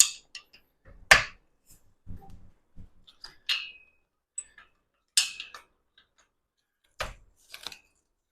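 The safety latches on a Bull Bar 2.0 home pull-up bar snap shut, giving several sharp, close clicks and clacks separated by quiet gaps, with a few softer knocks in between.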